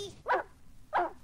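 A dog barks twice, two sharp, close barks separated by a short pause over a faint low background.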